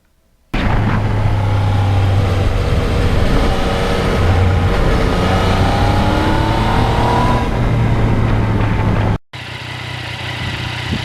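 A 2020 Yamaha MT-09 naked motorcycle is ridden at speed: a steady, loud engine drone with shifting pitch and strong wind rush runs throughout, briefly cutting out near the end before resuming.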